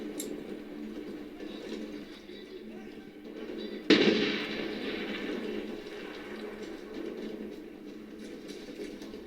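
A grenade explodes in a first-person shooter video game: one sudden sharp blast midway, followed by a rumbling decay over steady in-game background noise.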